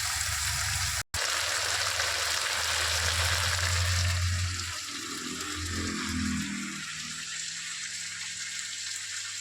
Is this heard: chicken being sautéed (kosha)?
yes